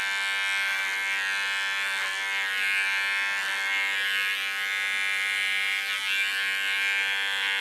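Large electric hair clipper buzzing steadily up close as it cleans the short-haired contour behind the ear, a continuous bright motor whine with slight wavering and no talk.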